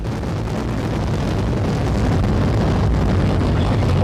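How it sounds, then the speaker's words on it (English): The Terran 1 3D-printed rocket lifts off, its engines producing a loud, continuous, dense roar that holds steady and builds slightly over several seconds, with no voices audible. "Lift off. Terran 1 has cleared the tower."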